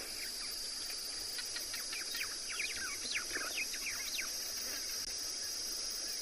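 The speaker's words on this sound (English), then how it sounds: "Can hear the white-browed sparrow weavers in the distance saying goodnight" White-browed sparrow weavers call at dusk in the African bush, a scatter of quick chirps and chattering notes at a distance, set against a steady high insect or cicada drone.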